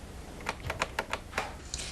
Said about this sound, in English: first move the cursor to the top of your document using the arrow keys.